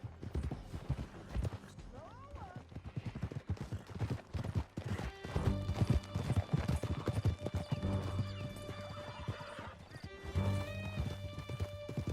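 A horse gallops in the video game Red Dead Redemption 2, rapid rhythmic clip-clop hoofbeats with an occasional neigh, mixed with game music and brief voices.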